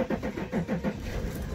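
A 2009 Audi A8 engine starting by push button: a short cranking churn catches into a running engine nearby, brief and fairly loud, with no talk.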